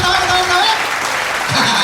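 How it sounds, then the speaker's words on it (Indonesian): Crowd applause and cheering at a Betawi lenong comedy performance, brief and loud, with voices over the clapping. "tepuk tangan mana tepuk tangan?"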